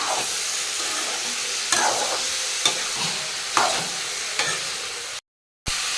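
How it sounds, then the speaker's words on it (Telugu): Mutton blood, a Rayalaseema-style dish, frying and sizzling in a pan with a steady hiss. Several sharp stirring scrapes break through the sizzle, and a brief gap of silence falls near the end. "ఇప్పుడు బాగా వేయించుకోండి, అంతా మిక్స్ చేసుకోవాలి."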